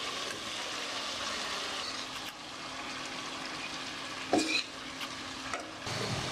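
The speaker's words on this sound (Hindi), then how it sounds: "अब हम इसमें भिंडी ऐड करेंगे जो हमने फ्राई करके रखी हुई थी।" Fried okra stirred into chicken in a pan for bhindi gosht, giving a steady sizzle with a few scraping stir strokes and a brief clatter partway through.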